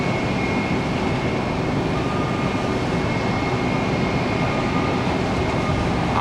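A 23-year-old Southwest Boeing 737-700 at Tampa airport on a rainy day, heard as a steady, loud jet engine roar with a faint high whine held throughout, and no talking.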